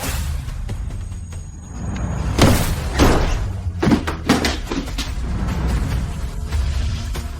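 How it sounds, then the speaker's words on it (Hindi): Repeated banging on a locked door in a tense drama scene, a cluster of loud thuds and slams after a quieter start, then scattered knocks under a steady low background hum. "दरवाजा खोलो, मैं हूं। फूजी, अंदर से कोई आवाज नहीं आ रही, लगता है अंदर से बंद है।"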